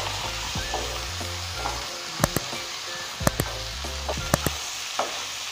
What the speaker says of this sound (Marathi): तो आपण आता सर्व टाकून देऊ आणि व्यवस्थित हे परतून घेणार आहोत.